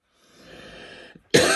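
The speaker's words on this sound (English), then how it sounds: "I apologize for coughing." A single sharp, loud cough bursts out near the end, after a stretch of quiet breathy hiss and a tiny throat click.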